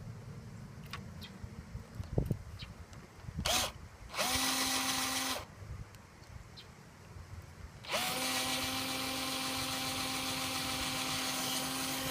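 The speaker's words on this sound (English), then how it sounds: "I'm going to have to drill it from another angle." A power drill whirs in two bursts while drilling a hole in an RV door, a short run then a longer steady one, with some handling clatter and knocks before it.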